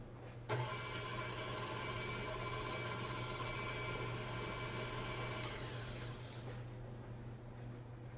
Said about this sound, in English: I'm going to add my paddle attachment just to give it a stir